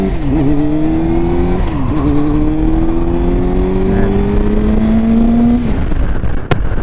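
A 2004 Triumph Daytona 600 motorcycle accelerates hard on a test ride, its loud engine climbing steadily in pitch through several gear changes over steady wind rush, then dropping off abruptly near the end.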